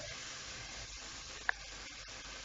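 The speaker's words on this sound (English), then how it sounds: "Stir fry this on high flame itself. Do not lower your flame." Vegetables and corn hiss and crackle in a pan on high flame, a constant sizzle with a few soft scrapes and one sharp tap of the utensil.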